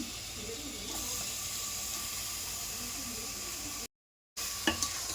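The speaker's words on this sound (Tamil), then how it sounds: "இப்போது சிக்கனை போட்டுக்கலாம்." Chicken frying in a pan, a steady close sizzle and hiss that continues throughout, briefly cut to silence near the end before returning with a couple of sharp clatters.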